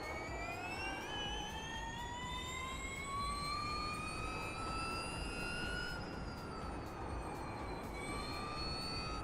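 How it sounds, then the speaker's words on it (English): Racing video game car engine whine rising steadily in pitch as it accelerates, then dipping briefly at a gear change before climbing again, loud and continuous without any talking. "We're turning the engine sound off."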